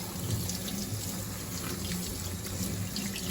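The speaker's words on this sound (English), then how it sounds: "Just give them a good rinse with some cool water." Cool tap water runs into a kitchen sink, rinsing Brussels sprouts, as a soft, continuous splashing stream at low volume with no voices.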